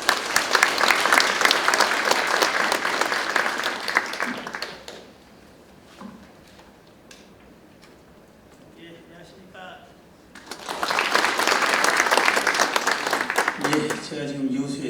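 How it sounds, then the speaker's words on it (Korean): An audience at a policy forum on fishing-boat safety applauds loudly to welcome a lawmaker giving opening remarks; a long burst of clapping fades, a quieter stretch follows with faint sounds, then a second strong round of applause. "여러분 큰 박수로 환영해 주시기 바랍니다."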